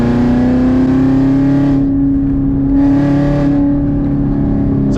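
A Dodge Challenger Hellcat with a full Corsa exhaust revs hard in sport mode, giving a loud, continuous close-up engine roar that eases and swells again over several seconds.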